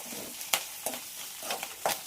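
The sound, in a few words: frying beetroot with curry leaves in a pan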